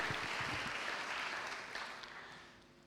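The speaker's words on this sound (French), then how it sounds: "on peut vous applaudir et vous remercier de votre présence à nos côtés" Faint applause from a conference audience at a round-table session, a brief patter of clapping that fades away.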